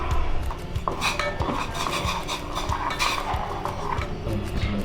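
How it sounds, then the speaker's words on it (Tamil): Jaggery dissolving in water in a pot for syrup, stirred with a metal spoon that scrapes and clinks steadily against the pan, close and fairly loud, with no talk. "வெல்லத்தை இப்போ போட்டு பாகு காய்ச்ச போகிறேன்."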